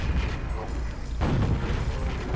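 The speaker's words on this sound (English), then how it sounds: "So we get the rocket launcher ready," A rocket launcher fires at zombies in the Quake video game, giving loud booming blasts with a heavy low rumble and a sharp new burst about midway, alongside dense game noise.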